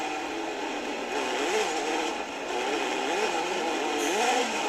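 Racing motorbike engine on a British Superlite Championship track, onboard, revving continuously and loudly with rising and falling pitch as it shifts through gears.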